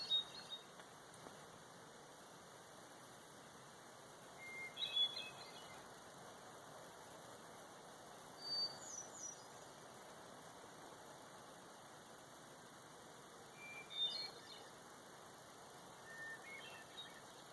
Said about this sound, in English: Hey y'all, listen to that bird.